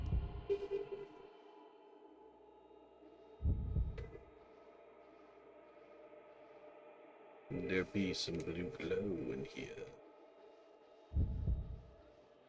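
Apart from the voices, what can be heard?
heartbeat sound in the video game Fatal Frame 2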